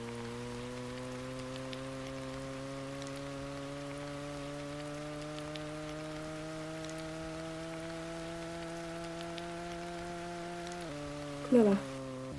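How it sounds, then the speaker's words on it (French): Rain falls in the Roblox game Brookhaven, a faint steady patter behind a droning in-game car engine that holds a constant pitch and drops briefly near the end, with a short bump just before the clip finishes. "Oh, il pleut."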